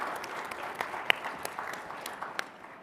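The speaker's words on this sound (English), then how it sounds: "That's an applause line for the crowd." A sparse, thinning patter of audience clapping at a conference session, scattered individual claps at close range that trail off after a few seconds.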